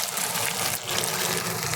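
Water pours into a pan of fried beef, a steady rushing, bubbling flow that stays even throughout the short moment.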